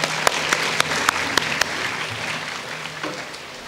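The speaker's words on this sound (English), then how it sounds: "A round of applause for them as well." A student audience at a freshers' day formal programme gives a round of applause: dense, close clapping with a few loud individual claps early on, steady, then thinning slightly toward the end, with no talking.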